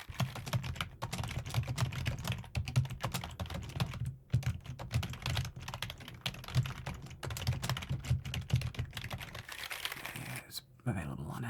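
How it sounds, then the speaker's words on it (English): Keys clatter steadily on a classic Logitech USB keyboard, a dense run of close, crisp clicks with brief pauses, under a low background murmur that tags as speech. "This is a USB keyboard."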